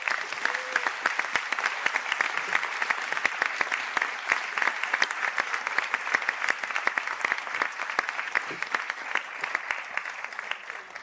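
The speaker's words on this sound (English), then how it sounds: "stand for their round of applause" Sustained round of applause from a large audience at a college conferring ceremony for Bachelor of Science graduates in Advanced Wood and Sustainable Building Technology, dense steady clapping throughout without pause.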